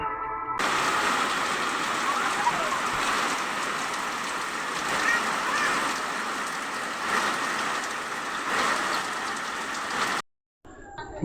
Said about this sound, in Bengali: বাইরে খুব জোর বৃষ্টি পড়ছে